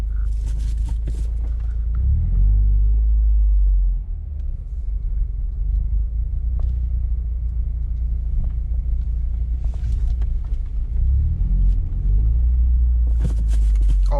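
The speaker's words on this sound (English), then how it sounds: "I'm gonna try to do a couple pulls, and I'm also going to downshift a little bit" Car tuned with a Cobb Accessport revving hard through acceleration pulls with a downshift, a loud, close engine rumble that swells, eases near the middle, then surges again toward the end.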